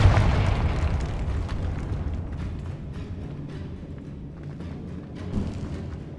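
A Confringo fire spell explodes in Hogwarts Legacy, giving a loud low boom at the start that decays into a long crackling rumble and fading debris noise, with no talking.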